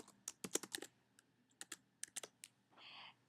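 Quick, uneven bursts of keystrokes on a computer keyboard while text is entered in Adobe Illustrator, close and fairly quiet, in clusters with short pauses and a softer sustained rustle near the end.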